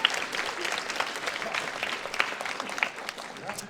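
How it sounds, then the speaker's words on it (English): An audience at a public library reading event on Wasaga Beach gives a round of applause, a dense, continuous patter of many hands clapping at moderate volume. "One more round of applause for Jeff."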